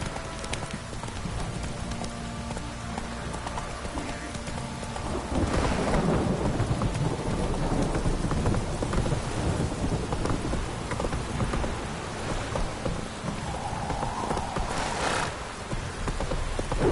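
Steady heavy rain in Velen in The Witcher 3 pours throughout, growing louder midway, with a low rumble of thunder underneath.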